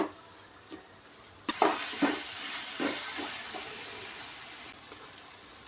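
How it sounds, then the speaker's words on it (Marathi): Masala with turmeric sizzles loudly in hot oil as it is sautéed for a crab curry, with a sudden burst of hissing frying and a few scraping stirs that settle into a steady sizzle. "परतून घेऊया मसाला तेल सुटेपर्यंत आपण परतून घेऊया"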